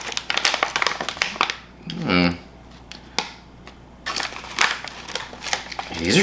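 A plastic bag of dense sativa marijuana buds crinkles and rustles as it is opened by hand, sharp close crackles coming in bursts with pauses between them.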